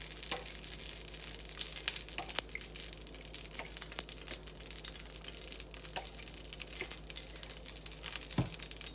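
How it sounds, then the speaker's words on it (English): Olive oil sizzles and crackles in a hot skillet, a steady, fairly quiet frying hiss with scattered pops and small clinks, no voices over it. "So I'm going to add some olive oil to this hot skillet."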